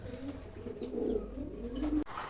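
Pigeons cooing at a pigeon farm, soft repeated throaty coos at moderate distance over low background noise, with no one talking.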